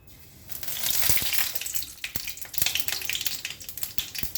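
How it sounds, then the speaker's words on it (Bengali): Black cumin seeds tempering in hot oil for a Bengali bori curry with mustard and poppy seed, giving a close, steady crackling sizzle broken by sharp individual pops. "কালো জিরাটা ফোড়ন করলাম"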